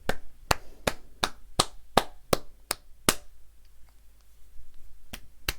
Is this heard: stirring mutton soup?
no